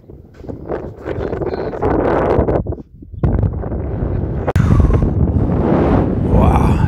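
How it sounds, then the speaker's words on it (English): Strong wind blows across the sand dunes of the Arabian desert in the UAE, buffeting the microphone with loud, continuous gusts that rise and fall, with brief footsteps on sand and no talk. "Sorry about the wind."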